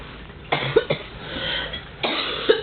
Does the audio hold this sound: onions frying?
no